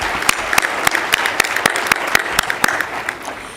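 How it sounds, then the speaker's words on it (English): Audience at a graduation ceremony applauding, a dense run of steady hand claps with sharp individual claps standing out close by, continuous across the whole stretch. "I'd like you to give yourselves a round of applause as I welcome you."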